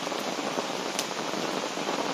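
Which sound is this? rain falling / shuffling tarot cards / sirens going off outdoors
rain falling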